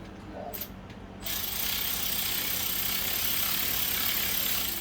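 A tool spins brake caliper bolts on a Dodge Avenger 2.4L during a front brake pad replacement, a short ratcheting burst followed by a steady, loud mechanical whir that runs to the end.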